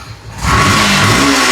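A used Yamaha FZ V3 motorcycle in top condition starts up. After a brief quiet moment its engine catches and rises into a loud, close rev that holds steady to the end.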